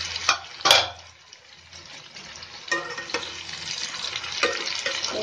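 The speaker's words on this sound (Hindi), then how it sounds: "इसे थोड़ा सा हम साफ होने पर फ्राई करेंगे।" Pumpkin frying in a pan for a sweet-and-sour chutney, with a steady soft sizzle and a few sharp stirring scrapes near the start and again later.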